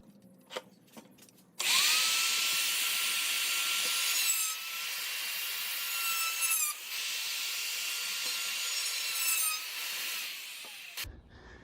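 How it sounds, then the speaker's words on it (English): Power router cutting grooves into a clamped piece of wood, a loud sustained whine that holds steady with slight dips in pitch as it bites the grain, then cuts off abruptly. "Okay, I've got this piece of wood clamped down, all marked out for how I'm gonna route out the wood grain"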